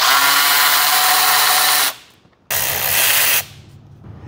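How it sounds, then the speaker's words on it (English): Loud pneumatic impact wrench or power tool on a Mercedes M156 engine from an SL63, loosening oil cooler hose bolts in two long bursts of about two seconds and one second, with a short quiet gap between them. "I'll go ahead and unbolt these oil cooler hoses"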